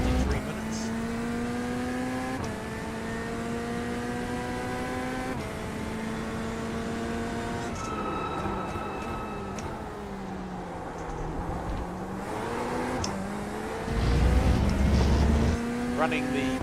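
Corvette C8 engine in an iRacing sim race, revving up through the gears over and over with sharp shift drops, steady and loud.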